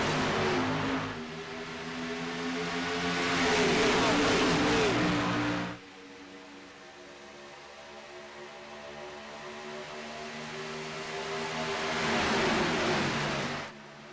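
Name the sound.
race cars accelerating at iRacing Super Speedway, racing video game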